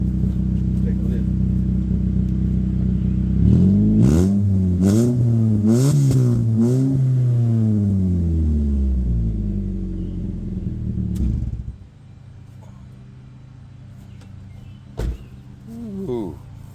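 A truck engine with a newly installed exhaust, running and rising in a series of revs that sweep up and down, loud and close, then settling back to a lower idle with a brief sharp knock near the end; someone speaks over part of it.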